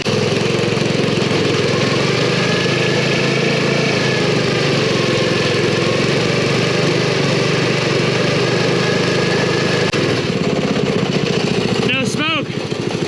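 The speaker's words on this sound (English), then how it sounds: "You know what? We need a burnout." A rat rod wagon's engine roars loudly and steadily during a burnout, a rough, continuous rumble lasting throughout, with a brief burst of voices near the end.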